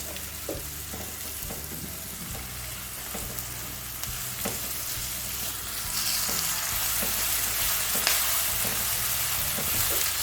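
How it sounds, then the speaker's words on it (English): Chopped onion stir-fried in a pan: steady close sizzling and crackle with frequent scraping and stirring knocks, growing slightly louder partway through, no talk. "So I'm going to add the chopped onion. So I'm just going to stir fry this before adding the rest of the ingredients."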